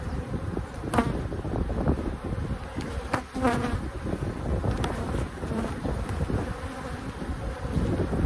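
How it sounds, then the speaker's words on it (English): A dense, steady buzzing of many honeybees from an opened hive fills the air close by, with some wind rumble on the microphone and occasional louder passes as bees fly near. "A lot of bees in here."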